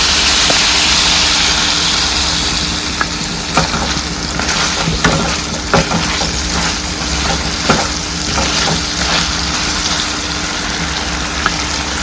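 Chicken pieces sizzle in oil in a pan, a continuous frying hiss with scattered pops and crackles, close and steady, with no talking.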